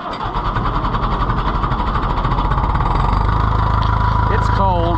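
An Oliver 500 tractor engine runs on a cold day, a steady rapid low chugging that grows a bit louder and heavier partway through, close and continuous, with a brief whistling squeal near the end.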